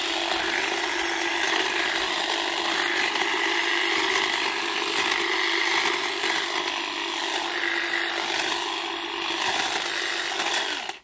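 A STIHL HLA 85 extended-reach electric hedge trimmer cuts through branches about a quarter to three-eighths of an inch thick, a steady loud buzzing whine that holds without pause and then stops abruptly.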